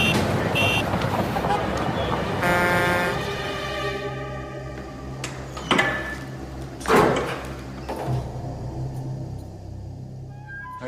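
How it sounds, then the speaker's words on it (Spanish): Traffic noise with a steady low rumble and passing vehicles that swell and fade, with a few sharp clunks like doors or bumps, mid-distance and fairly loud throughout. "El otro sonido es simplemente ruido de tráfico."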